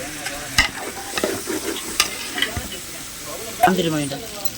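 Chicken pieces for chicken biryani being stirred in a frying pan, a steady sizzle broken by repeated scraping strokes of a spoon, close and fairly loud, with no talking.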